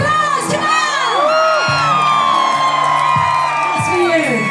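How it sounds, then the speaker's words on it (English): A concert crowd at a party event whoops, shouts and cheers loudly while music plays, with sustained vocal and synth tones, rising and falling wails and bursts of crowd noise throughout. "give yourselves an applause"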